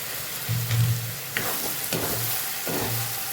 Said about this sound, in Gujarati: અહીંયા હવે આપણે ગલકા ઉમેરી દઈશું।